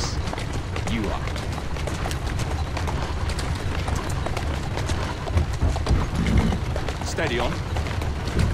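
A horse gallops in Assassin's Creed Syndicate, its hooves beating in a steady, fast clip-clop close by, against a constant bed of game noise.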